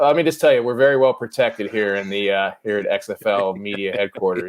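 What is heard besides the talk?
No everyday noises stand out.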